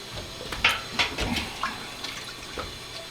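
A partly frozen whole turkey is lowered into a container of brine, giving soft sloshing and splashing water sounds in a few short bursts against a quiet room.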